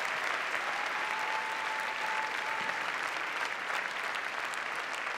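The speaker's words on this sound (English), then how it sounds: "Ladies and gentlemen, your applause, please." A large audience applauds steadily for a professional Latin dance couple at a ballroom competition, a dense, even wash of clapping that holds for the whole stretch without pause.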